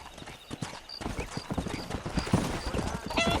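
Horse hooves clip-clop at a gallop in the Red Dead Redemption video game on PS3, a steady quick rhythm of close, loud hoofbeats with an occasional whinny mixed in.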